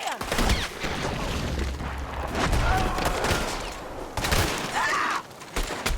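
Gunshots in the video game Red Dead Redemption 2: a dense, continuous barrage of loud, overlapping reports with a boomy low end, and voices mixed in toward the end.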